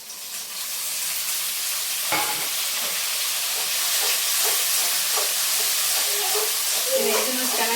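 Onion, carrot, mustard seeds and cumin sizzle loudly in hot oil, a dense continuous hiss with scattered crackles and pops throughout, heard close with no talk.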